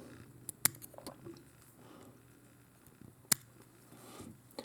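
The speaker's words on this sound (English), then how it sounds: "Come in here carefully with my tying scissors." Two sharp, quiet snips of small fly-tying scissors cutting thread while tying a Prince Nymph fly, spaced a few seconds apart, close by amid faint handling noises.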